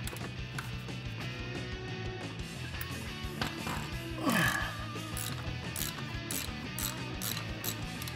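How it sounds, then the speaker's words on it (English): Oil filter being loosened and removed with a 65 mm cup-style filter wrench during a first oil change, giving steady low mechanical rattling and ratchet-like clicks with a brief louder scrape midway. "I'm gonna remove the oil filter."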